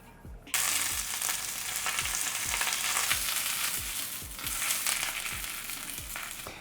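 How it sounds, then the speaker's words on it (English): Greens saute in sesame oil in a pan with a loud, continuous sizzle that starts abruptly, punctuated by regular soft knocks of stirring or tossing throughout. "I'm just gonna saute them until they're a little bit tender, a little bit softened"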